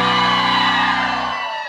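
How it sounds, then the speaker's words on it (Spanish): An audience in a table dance club lets out a loud, brief collective shout cheering for the women, a single sustained burst that fades within two seconds, with no clear speech. "a ver un grito a las mujeres"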